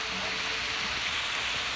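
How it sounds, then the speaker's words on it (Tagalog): Heavy rain pours steadily outdoors, a dense, even hiss of water with no breaks and no voices, moderately loud throughout. "Ulan na ulan."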